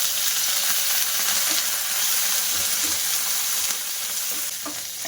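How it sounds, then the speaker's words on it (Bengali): Steady, close sizzling and crackling of curry leaves frying in hot oil, continuous throughout with faint stirring clinks. "ওর মধ্যে কিছুটা কারি পাতা দিয়ে দেবো"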